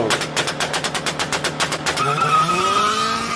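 A car doing a burnout on a drag strip: a loud rapid popping, stuttering engine note for about two seconds, then a sustained rising rev with tire squeal close by.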